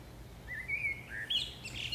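Two parrots chirp in short, thin, high calls that are faint and scattered over a low steady background hum, with no talking.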